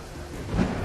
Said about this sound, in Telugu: పెద్దగా ఉరుములు మెరుపులు వస్తున్నాయి